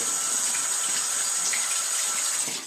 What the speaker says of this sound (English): So when it's dirty with the makeup, I rinse it, do it clean